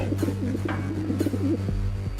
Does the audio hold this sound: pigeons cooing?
yes